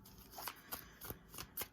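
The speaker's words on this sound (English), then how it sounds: "I'll do a round of fast shuffle" A deck of cards is shuffled quickly at close range in a run of crisp riffling bursts and soft flicks, with no talk.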